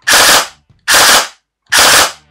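A CYMA CM.131 airsoft gun fires three short, loud full-auto bursts with the trigger held, each lasting about half a second and separated by brief pauses.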